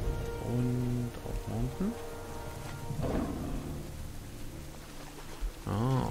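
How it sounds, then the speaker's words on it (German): Rain falls in the World of Warcraft harbor of Menethil, a steady wash of downpour with a low rumble beneath, while someone talks over it. "Ah, es regnet"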